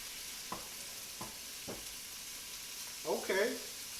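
Shrimp searing in a pan with a splash of stock, turned over to show browning and a crust: a steady hiss of frying with a few soft taps at the start and a louder clatter and sizzle burst near the end.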